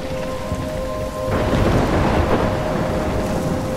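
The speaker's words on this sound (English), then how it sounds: "I'm trapped in a storm?" Heavy rain and a rumbling thunderstorm in the video game Life Is Strange, a steady wash of downpour that swells louder about a third of the way in, with no voices.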